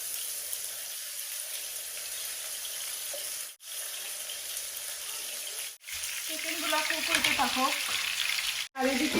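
Salt-and-turmeric marinated chicken fries in a hot pot, giving a steady close sizzle that intensifies and crackles more sharply in the last few seconds, briefly broken by a few short gaps.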